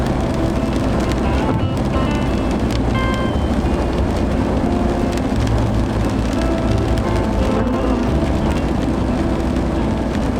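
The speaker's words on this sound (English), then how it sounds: "It's been pouring rain." Heavy, steady rain drums on the roof of a camper van, a constant close wash of patter with no letup and no voices.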